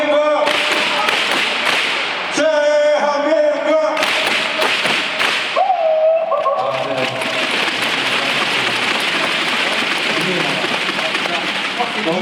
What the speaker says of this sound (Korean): 자, 박수 두 번 시작.